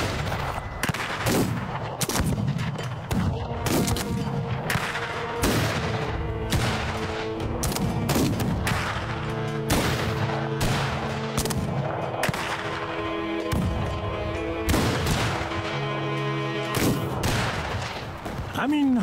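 Repeated sharp gunshots crack out in uneven bursts over a loud, busy background with music-like tones, volleys continuing throughout.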